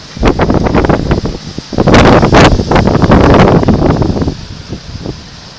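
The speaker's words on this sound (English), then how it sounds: "It's very, very windy." Strong gusting wind in a dust storm buffets the microphone in loud, rough bursts that swell and fade, with heavy rumbling blasts near the middle.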